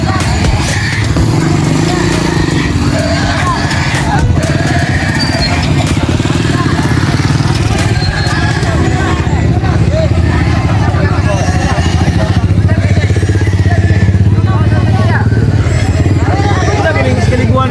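Motorcycles idle and rumble nearby at a rural livestock auction market for pigs and goats in Mantuyop, Siaton, Negros Oriental, Philippines, a steady engine drone under a busy crowd babble throughout.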